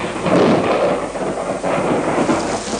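Deep rumbling thunder rolls continuously, broad and heavy, with a wash of rain-like noise beneath it and no voices.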